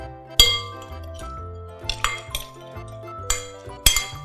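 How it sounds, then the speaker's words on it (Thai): Ingredients for a century egg salad with dried shrimp and celery tossed in a bowl with scattered clinks of utensils against glass, several sharp taps over a low steady hum. "คลุกเคล้าให้เข้ากันเลย"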